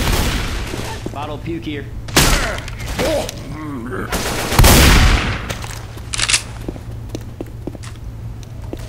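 Gunfire in a multiplayer video game: sharp broadband shots at about 2.2 and 4.6 seconds among scattered smaller cracks, over steady game ambience and footsteps, with voices talking throughout.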